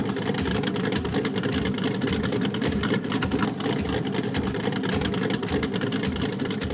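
A naturally aspirated V8 in a C8 Corvette with about 600 wheel horsepower and a Wilson intake idles with a deep, lumpy, pulsing burble, steady and loud throughout with no one speaking.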